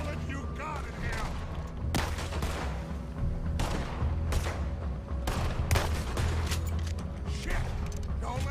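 Gunfire in Red Dead Redemption 2, with repeated sharp shots and bursts over a dense bed of game effects and mechanical clatter, loud and continuous throughout.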